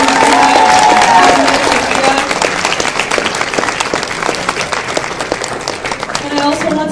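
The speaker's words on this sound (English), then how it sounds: "Can we have another round of applause for all of our speakers?" A crowd at a Gaza Lights Out event held by UConn SJP in 2018 claps for its speakers in a loud, continuous wash of applause that slowly eases off, with voices and cheers audible beneath it.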